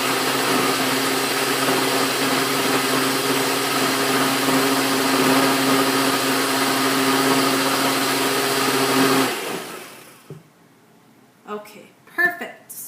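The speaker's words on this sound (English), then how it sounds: "I'm going to blend for probably about 5 to 10 more seconds on a medium setting instead of low" A blender whirs steadily on a medium setting through a green smoothie, a loud continuous motor drone lasting about nine seconds before cutting off abruptly, followed by a few faint clinks and handling sounds.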